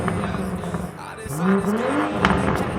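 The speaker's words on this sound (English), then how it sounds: "The new M340i doesn't disappoint when it comes to sound" A tuned 2020 BMW M340i engine revs and roars nearby, pitch climbing then settling, with tire noise and a voice talking over it.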